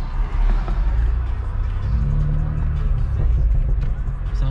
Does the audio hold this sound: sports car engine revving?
yes